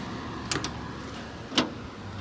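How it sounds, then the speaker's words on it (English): Passing cars on a road near a parked 2017 Chevrolet Silverado 2500HD make a steady low traffic rumble, with two sharp brief clicks or knocks over it. "Can't get away from cars driving by."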